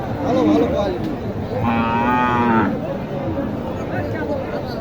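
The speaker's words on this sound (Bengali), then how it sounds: "চমৎকার কোয়ালিটির একটা গির গরু" A Gir cow gives a long, loud moo close by at the Mataji cattle market in Naogaon, amid outdoor background noise and people talking.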